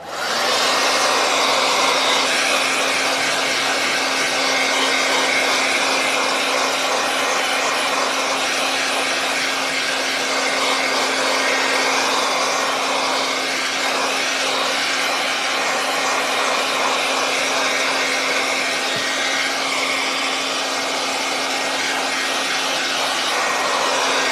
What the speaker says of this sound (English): I'm going to give this a quick dry.